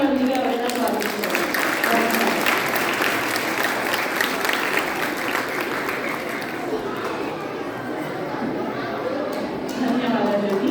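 An annual-day audience gives sustained applause to welcome sixth-grade presenters after the lamp lighting. The dense clapping fades slightly in the middle, and voices talk and call out over it.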